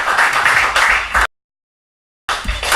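A church congregation bursts into loud, dense applause in a worship service, a thick wash of many clapping hands that breaks off abruptly, falls silent for a moment, then resumes.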